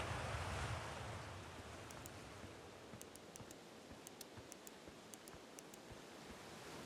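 Swimming underwater in the Outer Wilds video game brings a low, muffled wash of water ambience. A brief swell at the start settles into steady, faint rushing, dotted with small high ticks and soft bubbling.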